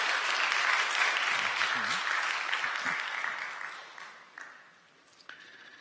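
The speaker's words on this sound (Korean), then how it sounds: "여러분들 환영의 박수 부탁드리겠습니다." A church congregation gives warm welcoming applause at a Sunday service. The clapping is full at first, then thins and fades away, with a few scattered claps and faint voices near the end.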